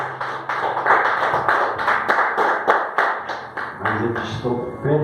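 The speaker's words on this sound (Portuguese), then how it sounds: "Quem crê, aplaude e glorifica esse Deus poderoso." Congregation at a Pentecostal church service clapping in a fairly regular rhythm, sharp repeated hand claps over voices and singing, close and lively.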